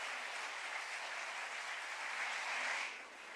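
Audience applause at the opening ceremony of the 10th ISI honouring former directors and employees, a soft, steady patter of clapping from a distant crowd that swells slightly near the end before easing.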